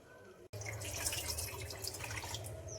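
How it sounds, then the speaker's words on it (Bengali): Cloudy water from rinsing rice being poured off into a sink, a steady close splashing trickle that starts abruptly after a brief pause and runs on evenly. "চালের মধ্যে থাকা জলগুলো দেখুন একেবারে ঘোলা হয়ে গেছে। এই জলটা ফেলে দিচ্ছি।"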